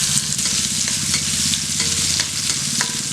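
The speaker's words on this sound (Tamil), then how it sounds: "எடுத்து இதிலே போட்டு சும்மா ஒரு வதக்கிடலாம்." Chutney ingredients with coconut sautéed in a pan, a close, steady sizzle with light stirring scrapes running the whole short stretch, no voices.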